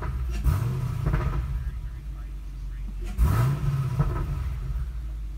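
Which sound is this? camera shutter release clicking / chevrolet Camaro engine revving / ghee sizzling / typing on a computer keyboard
chevrolet Camaro engine revving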